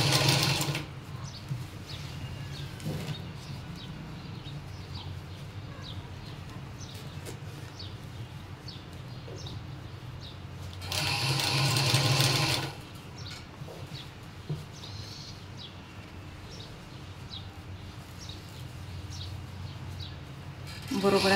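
A sewing machine stitches a cotton gown, its steady whir running through most of the clip with short louder bursts, including a strong stretch near the middle, while a voice talks over it.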